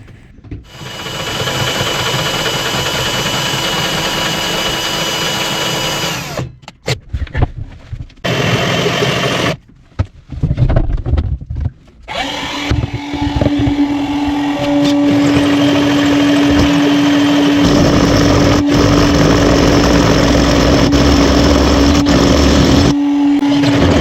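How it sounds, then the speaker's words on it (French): A power saw cuts a hole at moderate speed during heating duct and support installation work, a loud, sustained rasping grind interrupted by several brief pauses, then steadier cutting with a rising whine, close up and without talk. "Ensuite, moi je scie à vitesse pas trop élevée."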